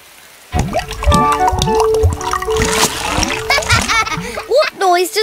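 Playful cartoon rain effects, with splashy drips and splatters, mix with animated voices that chant rain-like noises, imitating the drip and patter over bright, bouncy sound effects.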